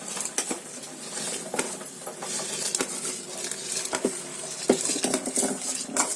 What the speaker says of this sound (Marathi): आता त्याच्यामध्ये तांदूळ टाकते.